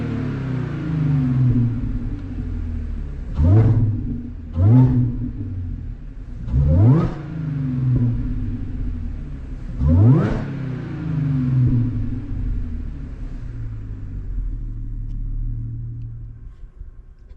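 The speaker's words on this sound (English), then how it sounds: "So I'll give you guys a little rev. So this is the gas intake with just a muffler delete on an A7." An Audi A7 with the 3.0T engine, fitted with a gas intake and a muffler delete, idles with a deep rumble and is blipped four times in quick, short revs before settling back to idle.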